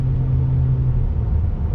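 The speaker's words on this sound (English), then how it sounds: "You get a little bit of a sound coming from the exhaust," A 2020 Cadillac CT4 engine rumbles steadily as it accelerates, a low, smooth exhaust note heard from inside the cabin with no talking.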